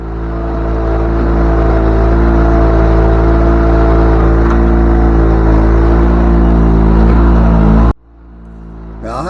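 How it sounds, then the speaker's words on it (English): A vintage Honda riding mower engine drones steadily and loudly up close as it climbs trailer ramps in the snow, then cuts off abruptly near the end. "this next one is a nice vintage Honda. It's got its own challenge trying to get up these ramps."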